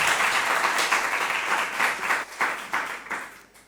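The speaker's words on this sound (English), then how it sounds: "A round of applause," Audience at a school quiz competition giving a loud round of applause, dense clapping from many hands that thins out and fades toward the end.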